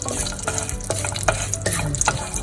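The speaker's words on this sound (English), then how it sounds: "Now to this I'm going to add bay leaf, green cardamom and the cinnamon sticks. Keep stirring it till they are fragrant." Bay leaf, green cardamom and cinnamon sticks stirred in hot mustard oil in a pan, a steady low sizzle with repeated scraping strokes of the spoon, close and fairly loud, no talk.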